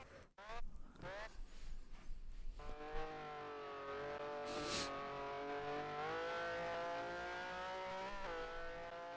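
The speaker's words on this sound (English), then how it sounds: "I always get worried when I hear the engine kind of sounding a bit rough." A race car engine in a sim racing game: a steady droning engine tone with slight pitch shifts as it revs through corners, loud and continuous after a brief clatter at the start.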